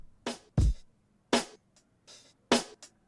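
A slow Breakbeats 1 drum pattern played on the Ski Beats kit of a Sonicware SmplTrek: sparse, punchy kick and snare-like hits spaced with gaps of silence, loud and dry, with no other sounds.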